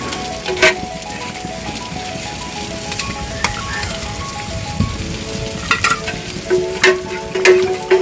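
Rice is stirred in a pot of chicken biryani base, with a steady wet sizzle and bubbling under scattered scraping and clinking of a utensil against the pot, several sharper knocks toward the end.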